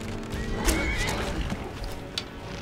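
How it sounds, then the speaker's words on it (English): A horse whinnies in the video game Skyrim amid combat sounds, with a sharp hit midway and scattered hoof and impact noises throughout. "You know what's bad when Gunmer's horse is actually a better fighter than he is"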